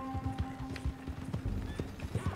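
Horse hooves pound in a steady galloping clip-clop in Red Dead Redemption 2, close and continuous over a low sustained game hum, with no voices.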